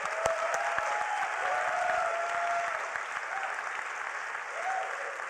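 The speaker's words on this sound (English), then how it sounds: "another round of applause for all 6 final startups" Sustained applause from a crowd at the Hult Prize finals and awards ceremony at the United Nations, steady clapping throughout with a few faint whistles or cheers rising above it.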